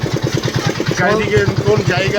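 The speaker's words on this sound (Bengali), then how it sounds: "আমরা এখান থেকে ইঞ্জিন ভ্যান নিয়ে নিলাম" An engine van, a motorized rural cart, chugs along village roads near Taki with a steady pulsing thump, loud and close, while people talk over it.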